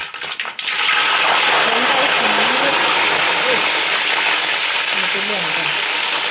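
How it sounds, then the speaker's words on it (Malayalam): Washed garlic hits hot oil in a pan already crackling with fenugreek for gooseberry pickle, giving a loud, steady sputtering sizzle after a brief quieter start, with occasional voice under the frying. "കഴുകിയെടുക്കുമ്പോൾ വെള്ളത്തിൻ്റെ ഒരു അംശമുണ്ട്, അതുകൊണ്ടാണ് ഇമാതിരി ശബ്ദം കേൾക്കണം പൊട്ടുമ്പോൾ."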